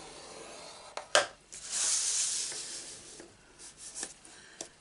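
Paper for a handbag-shaped tissue box is scored with a tool: a handful of short, close scratchy strokes, one sharper and louder, with a longer hissing scrape in the middle.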